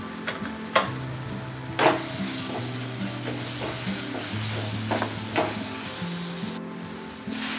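A steady sizzle and crackle of hot tempering frying in a pan after turmeric is added, while preparing moong dal, with a few sharp clicks and stirring scrapes and no talk.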